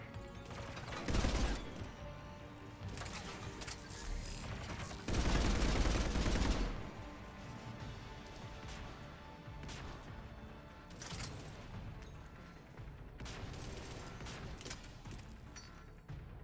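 Gunfire in Mass Effect 3 crackles in sustained bursts and rapid volleys, with two louder heavy blasts standing out over a continuous dense battle din.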